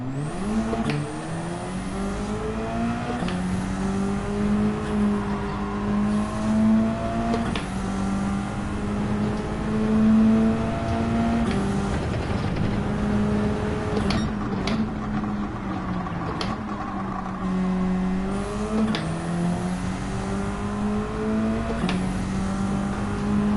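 Race car engine from the Gran Turismo 7 video game, a steady loud high-revving drone with shifting pitch as the car accelerates, brakes and downshifts through corners, with no talk over it.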